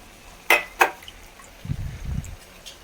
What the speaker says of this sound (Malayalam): ഇനി മിക്സിയിൽ ഒരു സ്വല്പം വെള്ളം ഒഴിച്ചിട്ടൊന്ന് ചുറ്റി ഒഴിക്കാം.